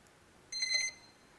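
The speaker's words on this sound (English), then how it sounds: "I can hear my ESCs beeping in the background." A short burst of high electronic beeps from a drone's ESCs, a few quick tones lasting under half a second, faint and alone.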